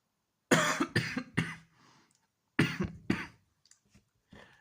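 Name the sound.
coughing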